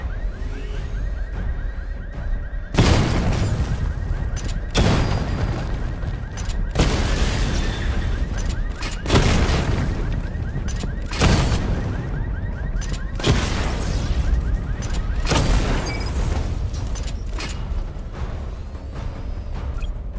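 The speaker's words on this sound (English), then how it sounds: "Charge the missile barrage to level 2 to destroy up to 4 targets at once." Batmobile missile barrage firing in Batman: Arkham Knight, a series of about eight loud booming launches spaced roughly two seconds apart over a steady mechanical hum, with no talk.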